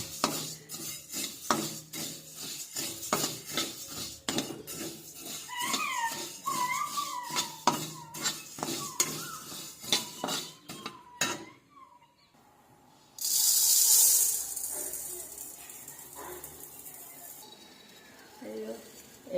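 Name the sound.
coriander seeds being dry-roasted and stirred in a pan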